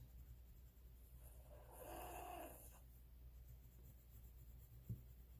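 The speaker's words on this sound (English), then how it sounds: "I really do apologize for her snoring" A woman's soft, faint snoring comes from nearby, one drawn-out rasping breath over a quiet room with a small tap near the end.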